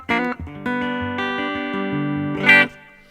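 Sustained electric guitar notes and chords ring out through a Kemper amp with a washy reverb tail, a plucked phrase opening and a brighter strum near the end.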